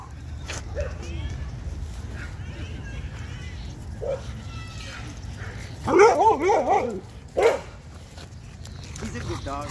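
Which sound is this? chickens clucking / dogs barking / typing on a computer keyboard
dogs barking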